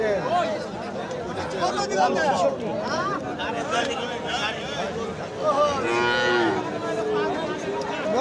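Cattle low repeatedly at a busy rural cattle market in Thakurgaon where medium bulls are traded, drawn-out moos rising over a constant crowd babble and nearby chatter.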